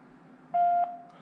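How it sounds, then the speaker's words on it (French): A single steady electronic voicemail beep, clear and moderately loud, lasting about a third of a second over faint background hum. "Veuillez laisser votre message après le bip."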